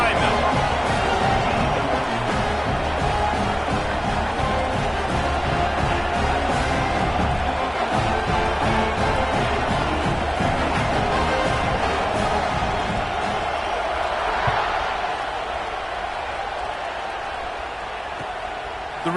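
Oregon Ducks football crowd at Autzen Stadium roaring before kickoff, a dense, steady wall of cheering that eases slightly near the end while an announcer talks over it.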